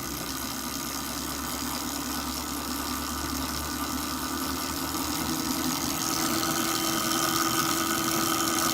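Ultra low RPM generator running steadily as it spools up, a constant mechanical engine-like drone with a pump-like hum that grows slightly louder toward the end, no talking.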